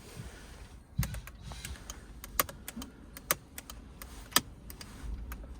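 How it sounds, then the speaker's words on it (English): A scattered series of sharp plastic clicks from buttons being pressed on a sticky media controller console in a Mini Cooper SE, irregular and close, over a quiet background. "that shouldn't make a clicking sound"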